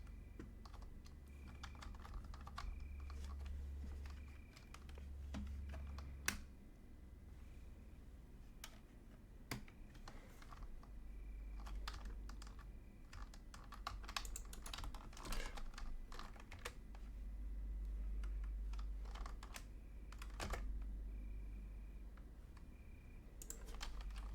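Fingers type steadily on a computer keyboard in a quiet room, with soft, irregular clusters of key clicks, some louder taps standing out, and a low hum underneath.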